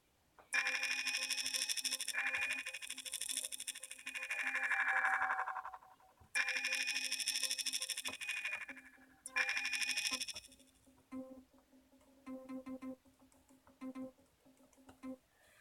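A beginner's starter project tune played on a Launchpad, with bright synth-like tones in three long swelling phrases followed by shorter plucked, percussive notes that fade out, heard alone without talk.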